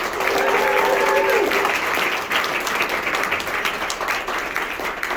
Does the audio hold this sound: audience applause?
yes